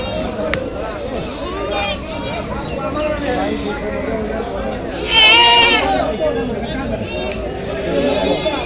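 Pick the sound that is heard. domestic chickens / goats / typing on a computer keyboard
goats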